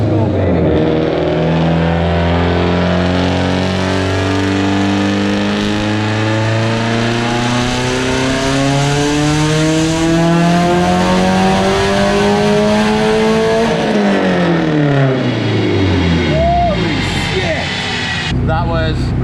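A big-turbo Subaru STI on a dyno at 15 PSI of boost, its engine screaming loudly as it revs steadily toward 6,200 RPM, then dropping off sharply near the end of the sustained pull.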